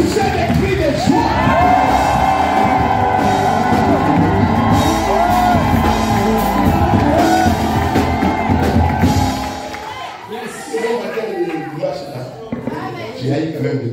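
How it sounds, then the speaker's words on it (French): A church congregation cheers and shouts for joy, loud and continuous whoops and yells that suddenly drop off after about nine seconds to scattered crowd noise. "Poussez des cris de joie."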